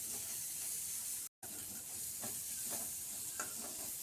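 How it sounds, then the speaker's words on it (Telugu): Ginger paste sizzles and fries in a pan, a soft steady hiss with faint scraping stirs, quiet and close. "ఇప్పుడు ఇది 2 నిమిషాలు అట్లా ఫ్రై చేసుకొని"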